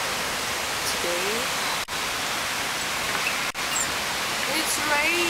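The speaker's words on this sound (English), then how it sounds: "it's raining." Steady rain falling in Singapore, a constant dense hiss throughout, with brief faint voices in the background.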